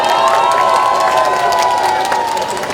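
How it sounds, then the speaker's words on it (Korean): A dense, loud crowd roars with applause and cheering at a campaign rally in Yangsan as Moon Jae-in arrives, shouts and whistles riding over sustained clapping throughout. "여러분 큰 박수 보내주시기 바랍니다."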